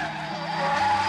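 Car tires skidding and squealing in an East German DEFA film trailer, a steady loud screech with engine roar held for about a second.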